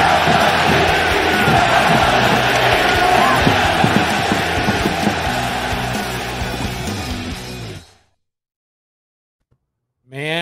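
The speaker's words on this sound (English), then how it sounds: "The crowd getting very loud at the Coliseum." A baseball crowd at the Oakland Coliseum swells loud, a roaring mass of cheers and yells that suddenly cuts to silence, followed by a brief voice.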